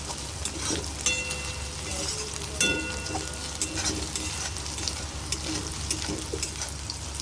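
Soybean chunks sizzle steadily in a hot pan for a curd-and-poppy-seed dish, a continuous crackling fry with occasional stirring clinks and scrapes, close and moderately loud, with no talking.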